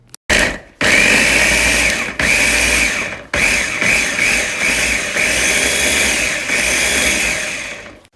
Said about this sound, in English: Now I'm going to blend it in my little blender and then add it to the meat.